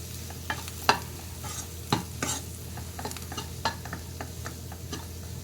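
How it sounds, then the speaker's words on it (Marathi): Fresh cowpeas (chavli) being stirred in a pan with onion-garlic masala and salt. A spoon scrapes and taps against the pan over a steady low sizzle, with a few sharper clinks standing out. "हा कांदा लसूण मसाला घालायचा आहे घालायचे मीठ हे पूर्ण हलवून घ्यायचं"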